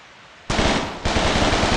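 A World War era gun fires in the video game Gorebox: loud, close, continuous automatic fire in dense rapid bursts, rising sharply and renewing partway through, with no talk.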